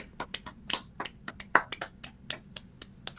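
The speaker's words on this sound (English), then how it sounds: "Golf clap, son. Golf clap." Quiet, measured golf-clap hand clapping, a dozen or so light, crisp claps in an uneven rhythm, close by and alone with no talk over them.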